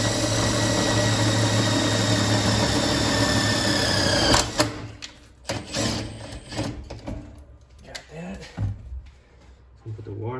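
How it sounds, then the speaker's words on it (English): A power drill whirs steadily as it drives into a bracket on an EZGO golf cart roof support, a continuous close buzz for several seconds, then stopping and giving way to short bursts, handling noises and someone talking. "Get that drilled in there."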